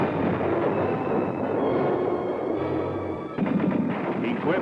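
Sustained battlefield gunfire from an M60 Patton tank with a 105mm cannon, a dense continuous rumble of rapid shots under heavy, unbroken noise, with a fresh volley breaking in near the end.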